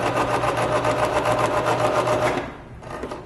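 A sewing machine stitches fabric for a handwarmer, a loud, steady, rapid mechanical whir up close that slows and stops near the end.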